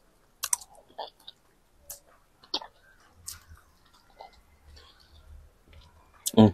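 Someone chews very peppery, spicy food close up, with scattered wet clicks and mouth sounds separated by quiet pauses, and a louder burst at the end.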